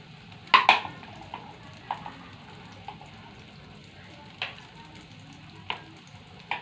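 Potato and egg omelette (Sundanese perkedel) frying in a pan, a soft continuous sizzle with scattered sharp pops and spatters, fairly quiet and close.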